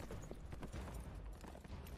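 Horse hooves clip-clopping in an anime episode, a quick continuous patter of hoofbeats at moderate distance, fairly quiet and steady throughout.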